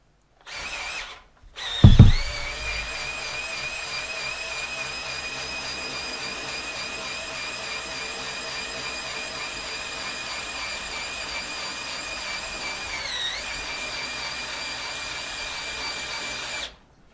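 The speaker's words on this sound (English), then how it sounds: "we need to mill a flat either side on that bolt so it can come up for the bottom and go into the table there" A milling machine runs steadily, cutting flats on either side of a bolt for a homemade machinist jack; a sharp knock near the start gives way to a sustained, even motor and cutter whine that holds for about fifteen seconds.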